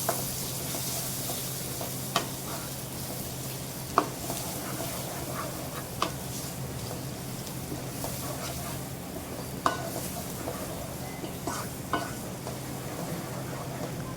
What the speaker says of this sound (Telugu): అందులో ఉల్లిపాయలు, పచ్చిమిర్చి వేసుకోవాలి. ఇప్పుడు వాటిని కలుపుకోవాలి.